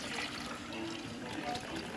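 Cold water is poured to fill a container holding a Thanksgiving turkey for wet brining, a soft, steady trickle and splash heard faintly up close.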